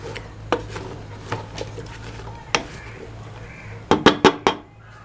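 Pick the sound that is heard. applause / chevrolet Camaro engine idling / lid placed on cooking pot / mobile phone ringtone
lid placed on cooking pot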